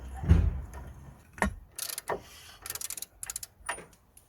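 A 32mm socket on a ratchet turning on the CV joint hub of a Nissan Note, with a thud, then bursts of rapid metallic clicking from the ratchet pawl in short runs, close by.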